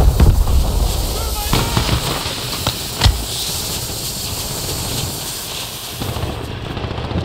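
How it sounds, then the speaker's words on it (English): A stun grenade detonates in Call of Duty on Rebirth Island's prison area, a sharp bang among smaller pops and thuds over continuous gameplay noise, with the loudest burst near the middle. "Throwing a stun grenade!"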